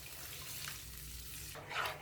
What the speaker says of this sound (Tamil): இப்போ இதுலேயே 1/2 கப் அளவுக்கு தண்ணி சேர்த்துக்கிறேன்.